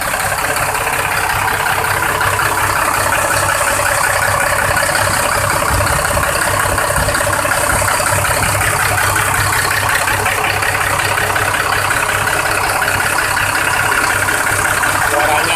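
A loud, steady bus diesel engine idles up close, a constant rumbling drone with a mechanical rattle that never changes pace.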